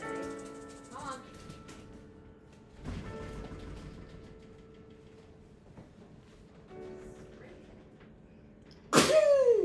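A single sharp sneeze bursts out near the end, loud and close, after a stretch of quiet indoor background with faint voices earlier.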